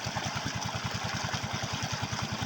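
A water pump engine idles steadily up close, its low, even putter pulsing in a fast regular rhythm for the whole stretch with no voices.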